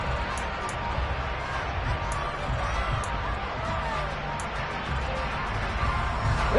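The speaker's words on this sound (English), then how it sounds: "Crowd getting in it a bit already." A football stadium crowd keeps up a loud, continuous roar of cheering and noise, a dense wash of distant voices with no break.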